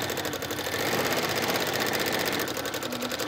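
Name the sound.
sewing machine stitching embroidery on denim shirt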